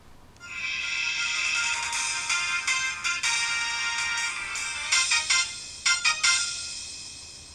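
A Samsung cell phone plays its bright electronic startup tune while rebooting, a loud close melodic chime sequence with several sharp note changes that fades out at the end.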